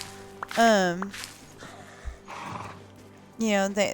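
Horses in the video game Disney Dreamlight Valley whinny twice, a strained wavering neigh near the start and another at the end, with snorting and breathy sounds between them.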